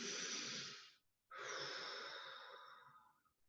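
A person breathes slowly during jaw self-massage: a long close airy exhale, a brief pause, then another long sighing breath, soft and alone without talk.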